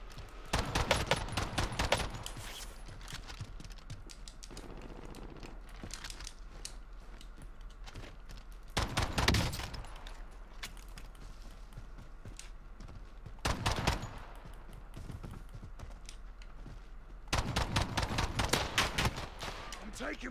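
Gunfire in the video game Call of Duty: Warzone: rapid bursts of automatic shots come in several loud clusters, separated by quieter stretches of background game noise.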